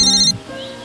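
A mobile phone ringtone plays a bright, repeating electronic melody, loud and close, then cuts off about a third of a second in, leaving quieter room sound.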